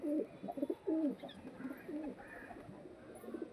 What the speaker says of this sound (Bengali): আমি এই কবুতরটাকে আপনাকে দেখিয়ে দেবো।